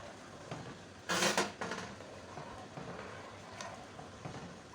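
A spoon stirring tamarind and plum sharbat in a pot, heard as a bright metallic scrape and clink around the middle, with softer taps and scrapes over a quiet kitchen background.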